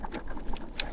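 Pigeons coo and other birds call outdoors in the countryside on a sunny afternoon, close and moderately loud over a steady low background.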